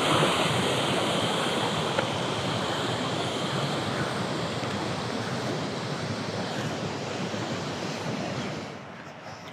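Rushing river water in the highlands of Hakkari gives a dense, continuous roar, loud and near, that eases slightly toward the end, with no voices.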